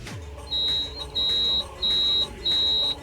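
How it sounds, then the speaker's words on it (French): Continuity-test beeps from a multimeter during an electronics setup check: four steady high-pitched tones, each about half a second to a second long, separated by short gaps, loud and clear over a low background hum. "Alors attendez, d'abord on va faire le bip."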